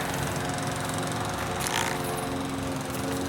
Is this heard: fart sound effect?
no